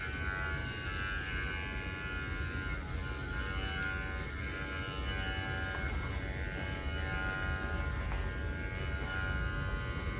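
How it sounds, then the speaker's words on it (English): Electric dog grooming clippers run steadily on a dog's back legs, a continuous close buzzing hum with a constant motor drone and no pauses. "I'm just gonna clipper slowly and let the clipper do its job."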